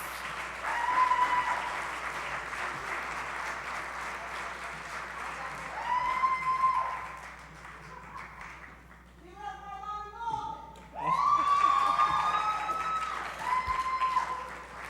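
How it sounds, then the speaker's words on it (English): An audience at a 2006 film challenge event breaks into sustained applause, rising and falling in several loud waves, mixed with voices talking and a few brief tonal, music-like sounds. "You should give yourself a hand and standing ovation, something."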